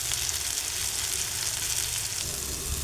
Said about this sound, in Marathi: आता यामध्ये दोडक्याची शिरा काढून घेतलेला टाकून घ्यायचे, परतून घ्यायचे।